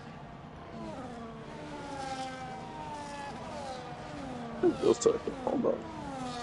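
Race cars overtaking at Imola in a sim racing game, several engines whining and rising in pitch under a commentator's voice, with a louder cluster of passes near the end.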